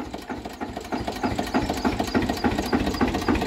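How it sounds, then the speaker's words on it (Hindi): A self-start Eicher 242 tractor, in good condition, idles close by with a rapid, even diesel chug and a light mechanical rattle that stays steady and fairly loud throughout. "इंजन गैस काट रहा, बहुत बढ़िया कंडीशन है।"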